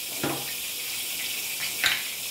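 Lentils, moong dal and chana dal, are rinsed under a running kitchen tap. A steady stream of water fills the clip, with a couple of louder splashes as the grains are swished by hand.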